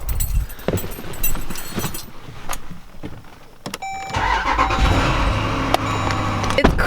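A Dodge SRT starts up and settles into a steady idle, quieter than expected with its stock muffler fitted; a whirring and clicks come before the engine catches midway through, then the low rumble holds close and fairly loud to the end.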